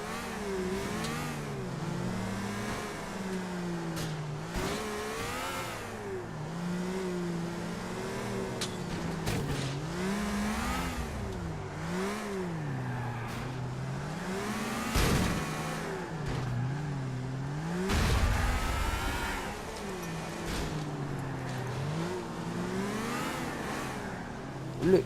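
Car engines in a vehicle combat video game rev and whine continuously, pitch swinging up and down as the cars accelerate, with occasional heavy thumps and bursts of crashing noise across the whole stretch.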